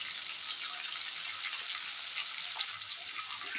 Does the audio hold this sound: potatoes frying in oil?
yes